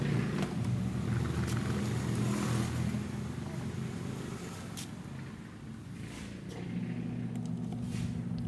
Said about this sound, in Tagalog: Ang problema ng washing machine niya ay maingay. Masyadong maingay yung gear.